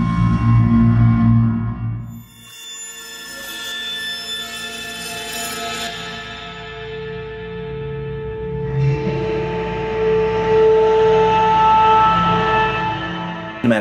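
A sustained, eerie tonal drone hums with layered resonant tones that slowly shift and swell, ringing with a reverberant, cinematic quality.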